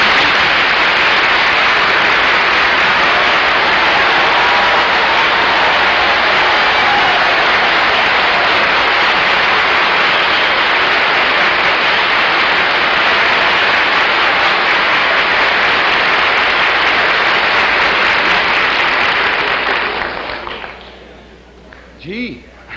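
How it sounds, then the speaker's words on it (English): A studio audience at a TV panel show applauds in a long, loud, dense wash of clapping that holds steady for about twenty seconds, then fades quickly into near quiet at the end. "thank you very much for your wonderful applause"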